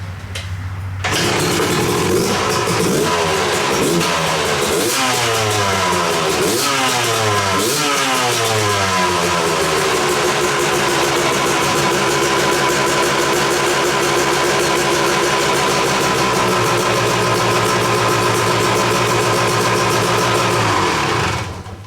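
A motorcycle engine with a rejetted Mikuni carburetor, its metering rod set two turns richer, fires up without choke and then settles into a steady idle, with its pitch sweeping as the revs drop before holding even.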